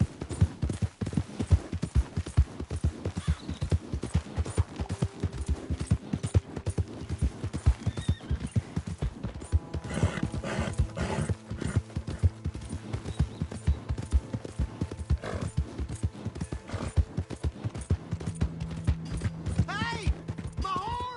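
Horse hooves clip-clop steadily through a video game played on PS4, a continuous rhythmic trot with occasional whinnies, layered over game music and ambient sound, while character voices speak at times.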